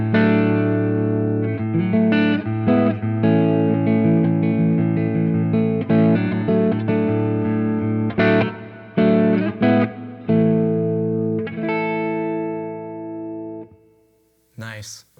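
Sustained guitar chords through a TC Electronic Hall Of Fame reverb pedal on its plate setting ring out with a spacious reverb wash and thick, effected tone, strums repeating steadily before fading into a decaying tail.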